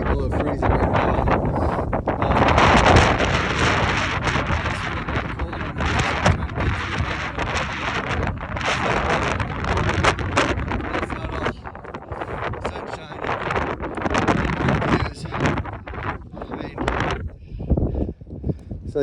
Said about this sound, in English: It's a bald, but the wind is blowing like crazy.